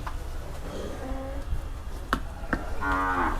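Several cattle moo at a livestock market in Wang Prachop, Tak, with drawn-out calls overlapping near and farther off, along with a few sharp clacks and knocks.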